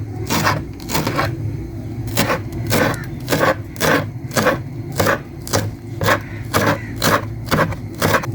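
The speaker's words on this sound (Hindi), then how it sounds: "हरी धनिया काट लेंगे।" Green coriander being chopped with a knife on a board in a home kitchen, steady quick crisp thuds and scrapes in a repeating rhythm, close and fairly loud, with no talking.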